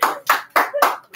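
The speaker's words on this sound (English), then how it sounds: "Claps for all of our participants." A class applauds its participants with four distinct, evenly spaced claps, close and sharp, alone without talk.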